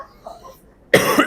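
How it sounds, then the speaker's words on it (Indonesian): A man giving a religious lecture coughs once, a short harsh burst following a moment of quiet breathing. "itu batuk soalnya"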